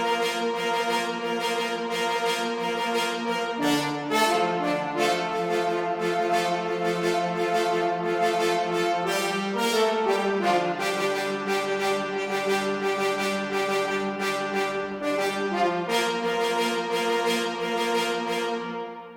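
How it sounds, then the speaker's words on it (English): Layered trombones and horns from an orchestral mockup play sustained brass chords, shifting every few seconds in a slow, full, steady progression with no voices. "As you can hear, sometimes horn stick out more, sometimes the trombones, so overall they are balancing each other"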